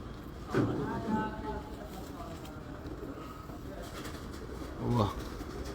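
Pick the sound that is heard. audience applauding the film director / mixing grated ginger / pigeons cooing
pigeons cooing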